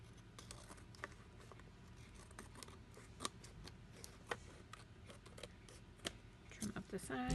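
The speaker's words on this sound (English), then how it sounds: "I'm just going to use the scissors." Scissors trim the side of a paper card in a quiet room, giving several faint, sharp snips spaced irregularly, with a soft voice in the background.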